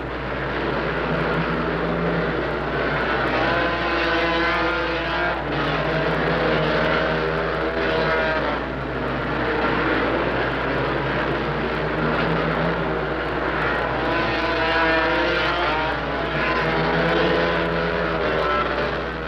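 Motorcycles race on a concrete track at a 1971 Yamaha event, a loud, continuous engine roar that rises and falls in waves for the whole stretch, with no talk.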